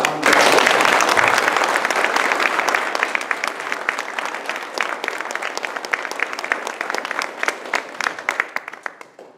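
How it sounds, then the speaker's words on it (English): Audience applause at an Eagle Scout court of honor ceremony, a loud burst of clapping that starts at full strength, thins into scattered distinct claps and fades out over several seconds. "Can we all just give him one more round of applause?"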